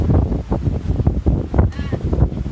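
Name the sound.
strong wind at sea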